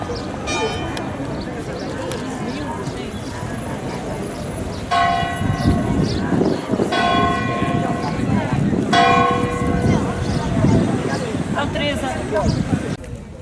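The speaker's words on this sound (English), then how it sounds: "You always have to have a church bell in the background." A church bell rings in a crowded hilltop area of Nazaré, Portugal, sounding in repeated clear strokes in the background while people chat and move about nearby.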